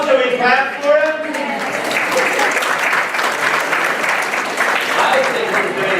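An audience of Austin Community College employees claps for the speaker at a keynote, a loud, even burst of applause sustained throughout, with faint voices at the start and end.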